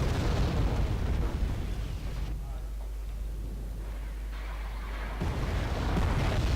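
Artillery shells bursting in the real-time strategy game Wargame: European Escalation, a continuous rumbling roar of blasts with a deep low boom, steady and fairly loud throughout, with a voice talking underneath.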